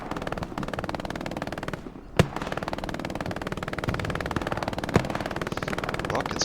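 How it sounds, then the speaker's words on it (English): In a military video game battle, rockets streak in and burst amid rapid, rattling gunfire, a sharp loud explosion cracking out about a third of the way through and another smaller blast later, all continuous and close. "Rockets flying in, trying to take that OP out"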